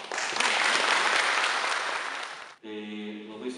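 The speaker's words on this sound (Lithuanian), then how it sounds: "Šiltais aplodismentais pasveikinkim svečius, giesmininkus, mielus klausytojus ir renginio svečius." Warm audience applause greets guests and hymn singers at a festival concert, a dense wash of clapping that stops abruptly near the end, where a sustained musical tone takes over.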